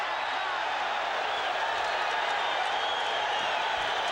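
A boxing arena crowd in the Felix Trinidad vs Maurice Blocker fight roars in the closing seconds of round one, a steady, dense wash of cheering and noise that fills the hall.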